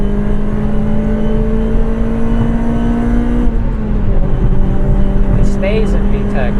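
Honda Civic Type R FD2 engine held high in VTEC, a loud sustained harmonic engine note that steps down at a gear change midway, with faint chirps near the end and a voice talking over it.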